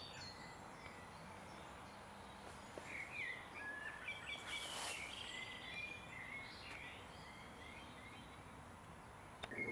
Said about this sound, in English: as well as the chiff chaff in the background, I've just heard a second cuckoo of the season somewhere over there.